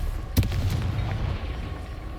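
A Confringo explosive spell goes off in Hogwarts Legacy, a single sharp blast followed by a short rumbling tail over a steady game ambience.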